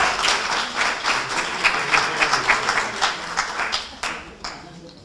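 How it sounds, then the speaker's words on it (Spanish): Auditorium audience at a university nutrition workshop applauding, a dense burst of many hands clapping that fades out toward the end. "creo que se merecen un aplauso de todo el auditorio"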